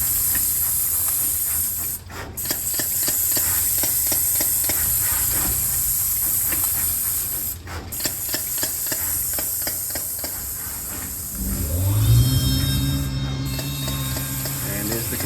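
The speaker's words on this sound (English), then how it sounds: "And there's the compressor." A compressor hisses steadily alongside the rapid, repetitive ticking of a pick-and-place machine assembling LED panels, with a louder low hum swelling near the end; no talking.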